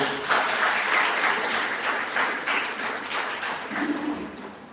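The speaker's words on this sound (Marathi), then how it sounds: "तुम्ही जोरदार टाळ्या वाजवल्यात पाहिजे ताईसाठी" An audience at a Marathi lecture on the Mahanubhav sect claps, a dense, sustained round of applause filling the whole stretch before gradually thinning.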